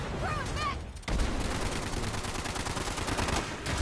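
Rapid video game gunfire crackles in dense bursts, loud and close, with a brief lull before a sustained volley picks up again, while faint voices are heard beneath.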